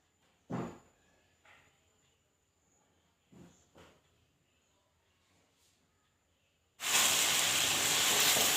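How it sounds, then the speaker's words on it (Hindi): Chicken hits hot masala in a pan and starts a loud, steady sizzle after a few faint clicks and quiet handling noises. The frying hiss begins abruptly and continues to the end. "अब इसको मसाले में डाल देंगे और चिकन को भी अच्छी तरह से भून लेंगे।"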